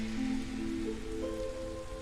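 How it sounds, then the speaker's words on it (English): Drizzle in the video game Against the Storm, a soft, even patter of light rain on surfaces with a few faint tonal game sounds layered underneath, no speech. "So this is the drizzle"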